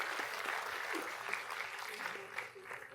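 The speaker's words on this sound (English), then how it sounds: "Let's give another round of applause." Audience applause at a panel event on Singapore's electoral future, a dense, steady wash of many hands clapping throughout, moderately loud and filling the room, with no talk over it.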